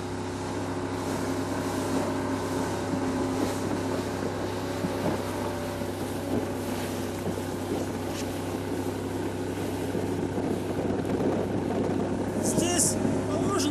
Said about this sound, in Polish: Strażnicy przepuszczają naszą motorówkę.